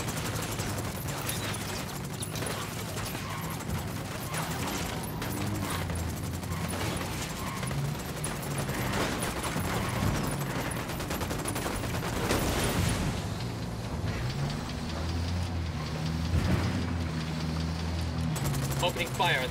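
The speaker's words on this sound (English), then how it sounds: "Opening fire on these fuckers." Rapid bursts of gunfire in the shooter game Tom Clancy's Ghost Recon Wildlands, dense volleys and machine-gun fire running almost continuously at close range, with voices talking over the shooting.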